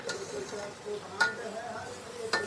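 A paste of dried red chilli and cumin with small tomatoes sautéing in a pan for chicken curry, a low steady sizzle broken by a few sharp spatula taps, close and soft, no talk.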